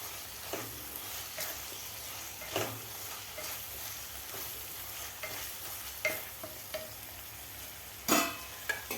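Crushed onion fried in a kadhai for egg biryani, a continuous sizzle broken by repeated scraping stirs of a spoon every second or so, close and fairly loud, with no voices.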